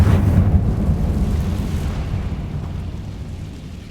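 A Confringo spell explodes in a Harry Potter video game with a loud, deep, rumbling blast that starts at full force and slowly fades over a few seconds.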